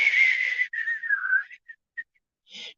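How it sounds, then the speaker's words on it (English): A high, wavering whistle of wind over a bog sustains for over a second, dips, then breaks into a few short gusty bursts and a final rush. "the wind whistling and the thunder cracking in the background"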